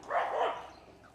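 One short, sharp bark from a dog out on a walk, fairly close and clear, with no voices over it.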